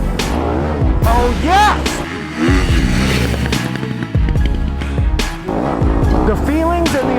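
Yamaha 2020 YZ250FX dirt bike engine while riding, rising and falling sharply through repeated revs and gear changes, loud and close, with a brief excited shout from the rider.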